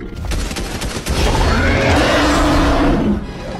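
Rapid gunfire in Fortnite, a dense close burst of repeated shots running steadily for a few seconds, loud and with no talk over it.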